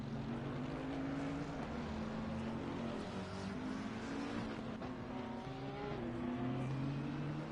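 GT3 race cars in a racing video game at Donington, multiple engines droning and revving together with rising and falling pitch as cars weave to warm tyres, a steady, dense roar with no speech.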